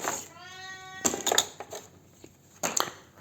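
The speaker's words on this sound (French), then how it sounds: "c'est mon chat qui miaule" A domestic cat gives one clear, drawn-out meow close by, followed by some soft knocks and handling noises in a quiet room.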